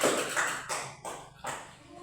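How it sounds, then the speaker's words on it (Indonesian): Grade 5 students in a science class at SDK Warukia clap briefly, a few ragged bursts of hand claps close by in a classroom, mixed with faint voices. "Tepuk tangan dulu untuk kalian semua."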